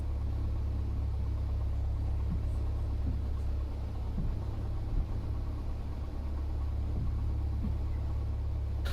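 Piper Cherokee 180 airplane engine runs at throttle, a loud steady low drone and rumble heard from inside the cockpit, unbroken throughout.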